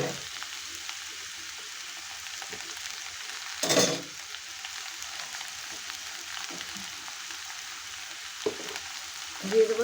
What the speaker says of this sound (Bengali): লাউটা দিয়ে আমি ভালো করে নেড়ে নেব।